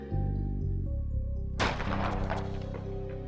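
A single loud Makarov pistol shot cracks out after a steady low hum, followed by a ringing, decaying tail.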